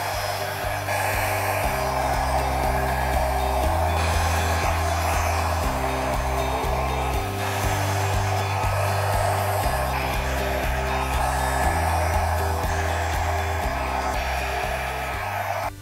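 A hair dryer blowing air over acrylic pour paint, a loud steady whooshing roar close by with a low droning motor hum, continuous throughout.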